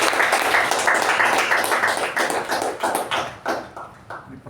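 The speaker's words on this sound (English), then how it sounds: "Let's give him a round of applause for that initiative." Applause at a club meeting, a dense burst of many hands clapping that gradually thins and fades toward the end.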